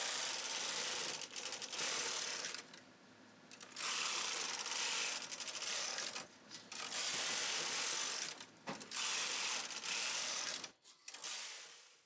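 A knitting machine carriage runs back and forth across the bed knitting plain rows, a loud, steady mechanical rattle and whir broken by brief pauses at each end of the pass; no speech.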